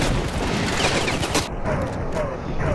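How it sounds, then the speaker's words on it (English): Dense gunfire fills a Ravenfield battle, loud and continuous with overlapping shots and heavy bursts throughout, easing slightly partway through before picking back up. "Who is shooting at me?"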